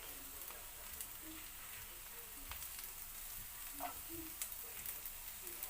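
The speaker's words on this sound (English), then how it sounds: "And then just saute this for another 1 minute" Chopped garlic sautés in a pan with a steady, close sizzle, broken by occasional crackles and light stirring scrapes.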